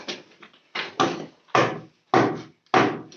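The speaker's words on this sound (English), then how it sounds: "when we hit it, it used to make sounds of the drum" Sharp, resonant knocks of rocks struck against a natural stone drum in Tharon Cave ring out one after another, about six hits with short decays between them, close and clear.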